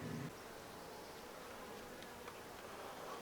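Honeybees buzz steadily on a hive frame during a hive inspection, a dense continuous drone heard close up with no talking.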